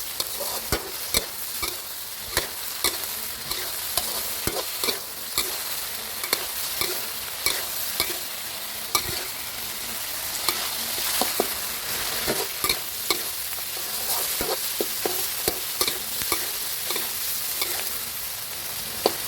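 Thai holy basil stir-fry with sweet dark soy sauce tossed in a hot pan, a loud continuous sizzle punctuated by regular sharp spatula clanks against the metal, rhythmic and close throughout.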